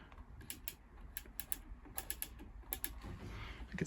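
A Samsung Ecobubble washing machine, not working after falling down the stairs, clicks along faintly in quick irregular ticks, with a low background hum.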